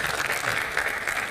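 A studio audience at a televised Hindi game show claps and applauds steadily, the clapping dense and continuous throughout.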